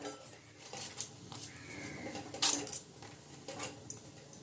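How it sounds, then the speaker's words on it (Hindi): Litti being turned and flipped in a kadhai, with close metallic clinks and scrapes of a utensil against the pan, irregular and sparse, one sharp clank standing out, no voices. "इसी प्रकार से हम उलट पुलट करते हुए चारों किनारे ऊपर नीचे हर जगह इसे अच्छी तरह से पका लेंगे।"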